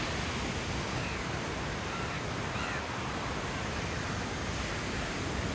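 A steady, soft roar of surf washes in from a distance at a beach resort in Kannur, with no clear breaks between waves.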